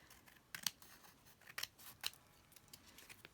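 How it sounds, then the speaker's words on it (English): Scissors cut through a paper journal tag in three or four crisp, close snips spaced about half a second apart, with faint paper rustling between them and no talking. "I don't think I can tear this one,"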